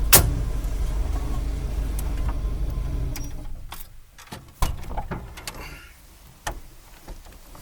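The engine of a 1956 Cadillac Sedan DeVille with an untuned carburetor runs as a close, steady rumble for about four seconds, then cuts off. Mechanical clicks and knocks follow in the quiet afterward.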